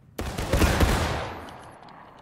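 Line of soldiers firing a musket volley in War of Rights, a ragged crackling burst of several near-simultaneous shots followed by a long fading echo.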